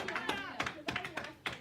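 A church congregation clapping for Jesus, a few sharp uneven claps spaced about a third of a second apart, close by and fairly loud.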